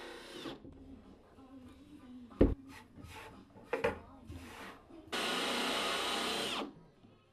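A power drill bores holes into engine boxes during a workshop build, giving one loud, steady whirring burst of about a second and a half after a run of scattered knocks, taps and scraping handling noises.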